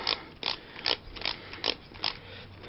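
A ratchet wrench cranks down a rear suspension bolt on a 2005-2015 Nissan Frontier during a Rough Country 2.5-inch leveling lift install: six evenly spaced bursts of ratcheting clicks, close and crisp, with no talking.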